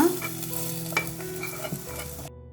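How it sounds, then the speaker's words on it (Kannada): Garlic tempering hits a pan of cooked greens with a loud, bright sizzle and hiss, stirred briefly with a scrape, sustained for a couple of seconds before cutting off, no talk. "ಬೆಳ್ಳುಳ್ಳಿ ಒಗ್ಗರಣೆನ ಈ ಸೊಪ್ಪದೊಳಗಡೆ ಹಾಕೊಳ್ಳೋಣ"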